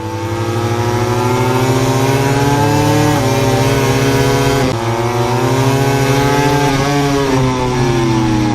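MotoGP race motorcycles at the 2020 Catalunya round scream loudly and continuously as they wind up through fourth, fifth and sixth gear, engine pitch climbing and briefly dropping at each upshift, with no voices over it.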